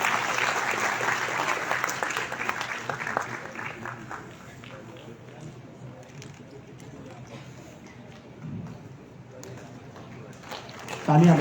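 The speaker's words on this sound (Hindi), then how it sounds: "तालियां बजती रहें।" Clapping from an audience at a community craft showcase event, strong at first, then thinning and trailing off into quieter room sound with scattered claps and a brief rise at the close.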